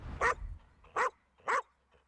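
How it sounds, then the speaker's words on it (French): A guard dog gives three sharp barks, evenly spaced and fairly close, with quiet gaps between them. "il a un aboiement qui est typiquement de garde"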